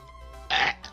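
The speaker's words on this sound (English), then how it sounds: "Sorry, I burped." One short, loud burp breaks in during gameplay commentary on Pokémon Shield and stands out clearly over a quiet room tone. No words are spoken.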